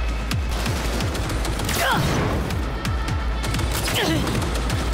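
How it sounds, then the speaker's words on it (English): Semi-automatic gun shots in Cyberpunk 2077 Phantom Liberty crack out in a steady series of separate reports amid combat noise, with a brief grunt from a voice. "It's not an automatic gun. Kind of annoying to shoot."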